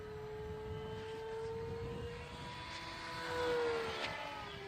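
A Red Bull Edge 540 RC airplane flies by with a steady, buzzing propeller drone that rises slightly as it passes, heard outdoors at a moderate distance with no talking.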